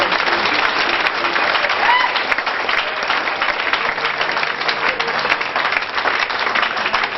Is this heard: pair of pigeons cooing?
no